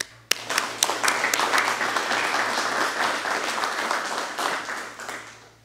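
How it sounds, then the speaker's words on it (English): Sustained applause from a graduating class of deputy transfer academy recruits at a 2021 ceremony, dense and steady throughout with a few sharp individual claps near the start, fairly close and loud. "Class, give yourselves a round of applause."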